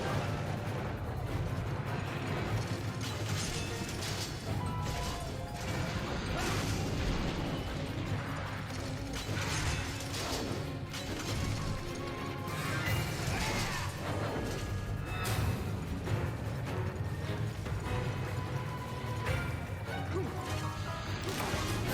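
Gunlance wide shelling blasts from Monster Hunter 3 Ultimate, a dense barrage of booming shell explosions and metallic crashes running continuously at steady loudness over game noise.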